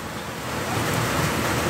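A steady, dense hiss of heavy rain pours down without a break, loud and close.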